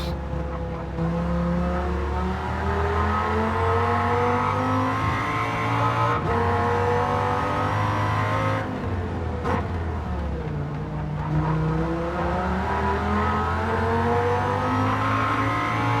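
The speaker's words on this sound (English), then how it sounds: "It's a very nice sound that Viper makes." A Viper race car in Gran Turismo 7 roars steadily through a race with a deep supercharged engine drone, rising and falling through gear shifts with brief dips, loud and continuous.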